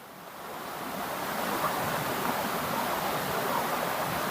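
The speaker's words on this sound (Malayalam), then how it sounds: "കണ്ടോ വെള്ളച്ചാട്ടം?" The roar of a waterfall at Banasura in Wayanad, Kerala, a dense, steady rushing that swells over the first second and then holds loud and constant, with no voices.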